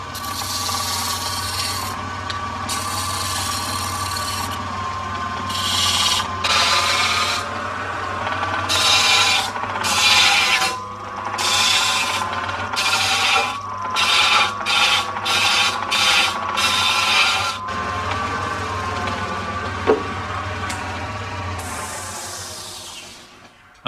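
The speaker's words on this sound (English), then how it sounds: "Now it's back to the lathe." A wood lathe spins with a steady hum while a cutting tool scrapes against a turning wooden tripod table pillar in repeated bursts of rasping, no voices.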